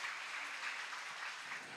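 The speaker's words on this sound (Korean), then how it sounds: "다시 한번 감사의 박수 부탁드리겠습니다" Audience applause at an ESG business and human rights conference, a steady dense wash of clapping holding evenly throughout without any voices.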